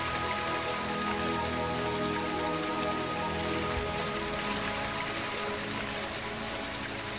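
Steady, dense rain in the video game Deadly Premonition: The Director's Cut pours continuously onto a hard surface, a constant hiss with no breaks and no voices.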